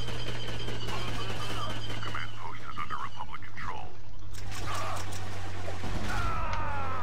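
Blaster and rifle fire rattles in bursts during a Star Wars Battlefront 2 mod battle on Felucia, with sharp crackling shots layered over a steady low hum while someone speaks quietly at times.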